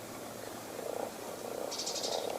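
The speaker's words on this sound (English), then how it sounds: "These are the poison dart frogs" A poison dart frog calls in a few short croaking bursts, followed by a higher trilling chirp, against a steady background hiss in the Amazon rainforest.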